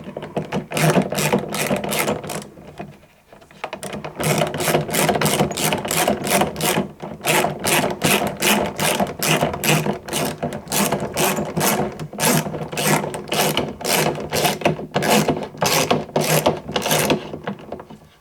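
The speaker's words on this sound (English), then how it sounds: "the long stud means we're tightening for quite a while before it tightens up" A ratchet wrench tightens a long stud on a transducer mount during a kayak tackle pod fit-out, giving long runs of rapid, evenly spaced clicks with a short pause partway through, close and loud with no talk.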